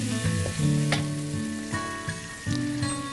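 Shrimp with onion, carrot and peppers stir-fried in a pan, a loud steady sizzle with brief scraping stirs and a faint tonal hum underneath.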